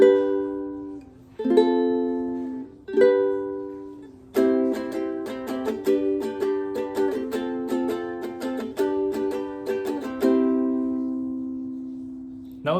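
Ukulele strumming the chords of the Adventure Time theme song, starting with a few spaced single strums, then a steady rhythmic down-up pattern, and ending on one ringing down strum; close and clear, played alone without voices.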